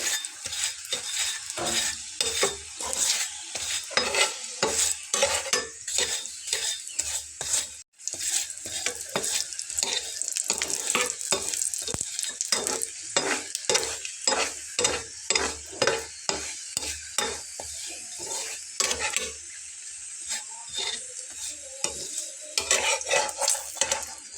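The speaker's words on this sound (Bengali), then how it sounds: "এখন আমি উপর থেকে একটু তেল ছড়িয়ে দিচ্ছি এবং খুন্তির সাহায্যে সেটা একদম ছড়িয়ে দেবো" A paratha frying in oil on a hot pan as oil is spread over it with a spatula; steady sizzle with rapid, rhythmic scraping strokes throughout, close and fairly loud, no talking.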